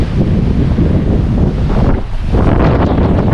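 Strong wind buffets the microphone aboard a sailing boat moving fast at sea off the Queensland coast in about 12 to 15 knots, a loud steady roar with the wash of waves underneath and no voices.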